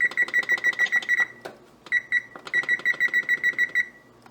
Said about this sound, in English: So I'm just going to set my timer.